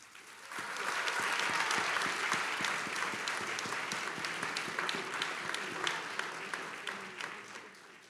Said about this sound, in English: Let's give all of our partners who are involved in our prevention, intervention, and suppression efforts a big round of applause